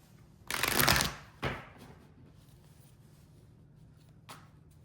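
Two quick riffling bursts of tarot cards being shuffled, the first longer and louder, then a soft tap near the end in a quiet room.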